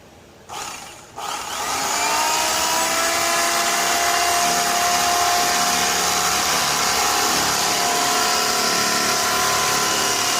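A power tool cuts foam and upholstery while a worn Club Car golf cart seat is rebuilt, starting with a brief burst, then a pause, then a loud steady whining drone that runs continuously to the end.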